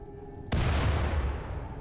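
Dynamite blasts and gunfire from an assault pistol in the video game RimWorld, heard as one sudden loud boom that breaks a quiet hum, followed by a dense rumbling roll of sustained firing and explosions.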